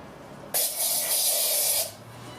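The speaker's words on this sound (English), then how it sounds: "get some of this disinfectant spray" A single steady burst of aerosol disinfectant spray into the air inlet of a 2012 BMW 128i hisses for about a second and a half, close and fairly loud, then cuts off.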